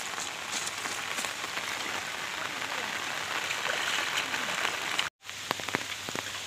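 Steady rain pours over a village surrounded by trees, a dense, even hiss of drops on surfaces with a brief dropout near the end; continuous and fairly close, with no clear speech.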